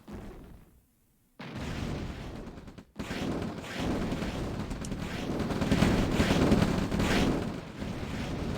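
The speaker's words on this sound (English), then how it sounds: "Yeah, my tanks attacking. Oh no, he's under fire now." Tanks taking gunfire in the real-time strategy game OpenRA Red Alert during a 1v1 match: dense, continuous rumbling bursts of gunfire and explosions, briefly cut out twice, then sustained and building slightly louder toward the end.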